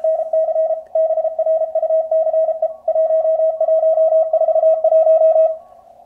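Morse code tone through the narrow filter of a QRP Labs QCX transceiver kit, a clean single-pitched beep keyed in fast rhythmic bursts, loud and steady before fading out at the end.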